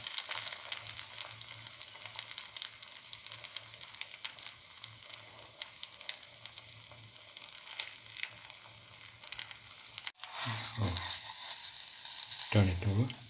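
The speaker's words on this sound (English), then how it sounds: "and let it fry." Potato omelette with cinnamon and mint frying in a pan, giving a steady sizzle with a low hum beneath, then a brief cut followed by louder crackling and scraping as it is turned.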